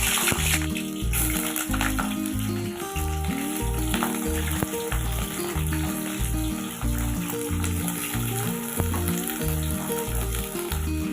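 Pointed gourd and potato pieces fry in well-heated oil, a steady crackling sizzle with occasional stirring, running under a rhythmic, beat-driven music track.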